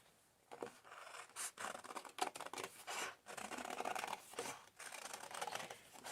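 Scissors snipping out circles drawn on the plain white back of shiny card, giving close, quiet bursts of crisp cutting and rasping strokes with brief pauses between them.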